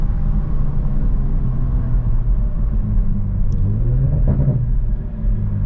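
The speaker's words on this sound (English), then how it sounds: "Sometimes it's nice, you know, just to wait for it to do its downshifts." Modified 500+ whp 2020 Toyota Supra cruising at night, its engine a steady loud low drone throughout, with a brief rise in pitch near the end as it downshifts.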